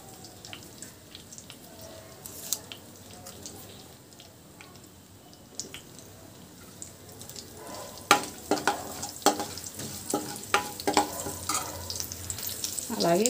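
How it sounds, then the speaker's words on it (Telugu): Dried red chillies, onions and curry leaves frying in a pan: a quiet sizzle at first, then louder crackling and sharp stirring clatters in the second half. "ఎండుమిర్చి, ఉల్లిపాయలు వేసుకుందామండి. కొంచెం కరివేపాకు వేసుకుందామండి."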